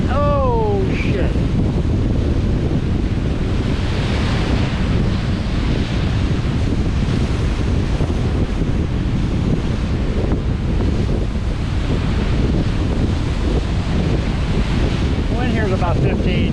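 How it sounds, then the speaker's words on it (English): Strong wind of about 15 to 20 miles an hour blows steadily at a Lake Huron shoreline, roaring across the microphone over breaking surf throughout, loud and continuous with no pauses. "Wind here is about 15 to 20 miles an hour."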